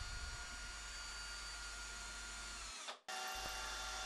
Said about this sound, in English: my drill is set at a way too high speed